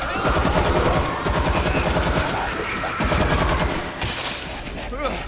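Dense, rapid gunfire from World War Z in the New York Dead in the Water mission, defending a hospital against a zombie horde. Sustained automatic bursts crackle loudly and overlap almost without pause.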